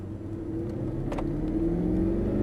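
A Mercedes-Benz SLS AMG accelerates around a Las Vegas race track, its engine giving a steady mid-pitched drone that climbs slightly in pitch, heard from inside the car, with a brief click partway through and no speech.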